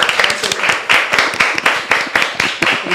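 A studio audience of women at a Brazilian videocast on women in sport claps for the production team, a dense burst of close, sharp handclaps with a steady rippling rhythm throughout.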